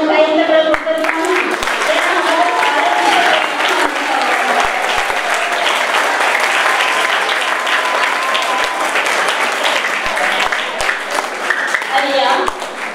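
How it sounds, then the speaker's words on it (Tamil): Sustained applause from an audience at a space-week astronomy lecture on exploring the night sky with a telescope in Coimbatore, loud and steady throughout, with some voices mixed in. "அப்படி சொன்னா அவங்களுக்கு ஒரு கைத்தட்டல் கொடுத்துருக்காங்க."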